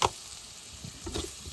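Shredded cabbage frying in a pan at an outdoor cooking spot beside a Sundarbans river, giving a soft, steady sizzle. A brief clatter opens it and a second stirring scrape follows partway through, with no talk.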